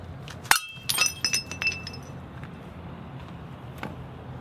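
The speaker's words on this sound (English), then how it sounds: "I'm gonna destroy the shit out of this mug right now." A ceramic mug is smashed and shatters with a sharp crash, followed by scattered clinks and tinkles of shards settling, then quiet room tone.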